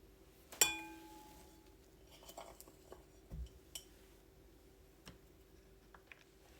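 A spoon clinks and scrapes against a mold while spreading a homemade granola bar mixture into its cavities, opening with one bright metallic ping followed by a few soft, scattered taps.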